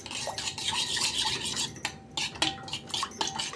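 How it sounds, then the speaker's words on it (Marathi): A spoon stirs and scrapes a paste of turmeric and sandalwood powder in a small bowl for homemade soap, giving close, irregular clinks and scraping strokes with no talking. "छान मिक्स करून घेऊया आपण."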